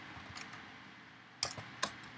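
Quiet keystrokes on a computer keyboard as a command is typed, a few soft taps followed by two sharper, distinct key presses near the end, close and alone.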